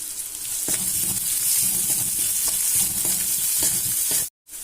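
Chopped onions and curry leaves sizzling in a hot pan for a beetroot palya, a loud continuous hiss broken by soft scrapes of stirring, then a brief cutout near the end.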